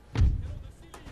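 A Napoleonic-era cannon in Napoleon: Total War fires round shot, one deep booming thud followed by a rumbling tail, with a fainter crack near the end.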